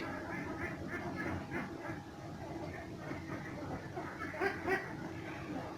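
Ducks at a combined duck and catfish pond farm, a flock quacking repeatedly in rhythmic bursts at moderate distance, fairly faint, with a few louder calls near the end.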